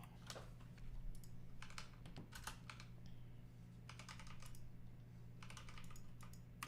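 Keys clatter on a computer keyboard during a live stream, in quiet, irregular bursts of typing separated by short pauses, close but soft, under a low steady hum, with no speech.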